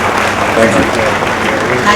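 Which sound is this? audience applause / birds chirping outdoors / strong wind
audience applause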